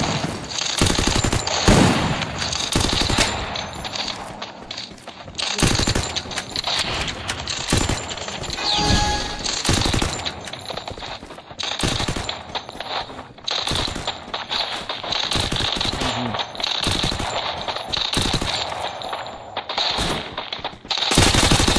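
Rapid automatic gunfire from the Free Fire battle game, loud and nearly continuous, with repeated bursts and single cracks over about twenty seconds, alone without talk.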